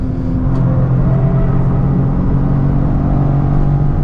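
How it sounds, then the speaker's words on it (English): A 2025 Toyota GR Corolla with an 8-speed automatic in track mode accelerates out of corners with a steady, loud engine drone and rumble heard from inside the cabin. "Quick, crisp shifts there from the 8-speed auto. Nice power out of corners."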